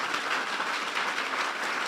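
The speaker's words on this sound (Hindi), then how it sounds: "अगर आपको बरकत मिली है तो इस कलाम के लिए जोरदार तालियां बजाएं।" Congregation applauding at a church New Year sermon, a steady dense wash of clapping throughout, moderately loud and continuous with no talking over it.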